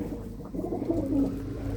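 Pigeons in a loft give soft, low, throaty coos that rise and fall close by, layered over a steady murmur with no talking.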